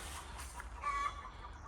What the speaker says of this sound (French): Les poules qui s'énervent maintenant, qu'est-ce qui se passe?